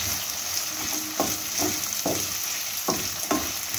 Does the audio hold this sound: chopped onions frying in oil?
yes